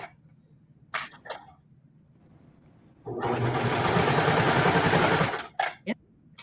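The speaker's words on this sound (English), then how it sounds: "I'm serging it in the right direction." A serger overlock machine stitches a dress seam in one close, loud burst of about two and a half seconds, with brief handling clicks and rustles before and after.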